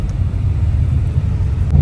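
A car being driven on a road, with a steady low engine and tire rumble heard from inside, continuous and moderately loud, no other sounds.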